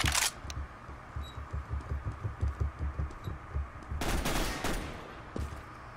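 Gunfire in the video game Counter-Strike: Global Offensive, with steady rhythmic low thumps of shooting and sharper, louder bursts at the start and near the end. No one speaks.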